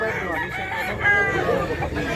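Chickens at a Cebu gamecock sale, with a rooster crowing in a long drawn-out call among clucking birds over a busy, noisy background.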